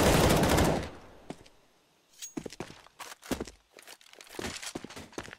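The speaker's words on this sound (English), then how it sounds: "Now it's the AK that is onto Magisk." AK rifle gunfire during a professional Counter-Strike match on the Inferno map, a loud burst at the start followed by scattered sharp shots and footsteps, some near and some farther off.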